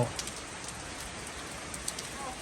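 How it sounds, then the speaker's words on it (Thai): Steady rain falls in a village in Laos, a dense, even hiss that holds at a constant level for the whole stretch with no voices. "ตุ๊ก ไปได้เล่นน้ำฝน"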